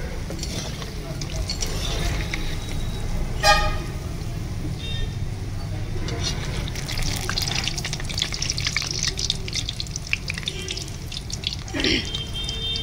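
Pakoras made from hinche greens sizzle in hot oil over a medium flame, a steady crackling broadband hiss throughout with a brief clink around the middle and a soft scrape near the end.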